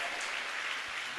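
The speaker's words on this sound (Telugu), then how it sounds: "నమ్మిన వారందరూ 2 చేతులు పైకెత్తి చప్పట్లు" A congregation claps with raised hands during a Telugu Christian prayer service, producing a dense, steady wash of applause throughout, with a voice faintly mixed in.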